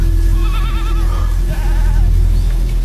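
Goats bleat in a few wavering, drawn-out calls, clearly audible over a constant low droning hum, with no talking.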